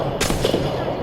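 A sharp crack of gunfire from a weapon in the shooter game Apex Legends, one or two close, loud shots in quick succession over a steady bed of game noise.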